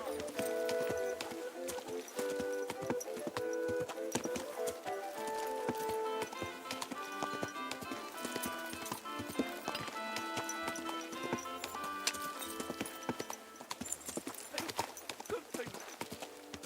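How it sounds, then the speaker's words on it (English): Horse hooves clip-clop steadily in the video game Kingdom Come: Deliverance II, a continuous trotting rhythm with game sounds and voices alongside. "Easy, good horse."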